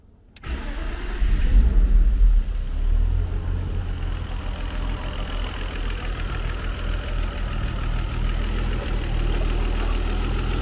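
Toyota 2JZ-GTE straight-six fitted with a new turbo, cranked briefly and firing up, then settling into a steady, loud, low idle, heard up close with no talking.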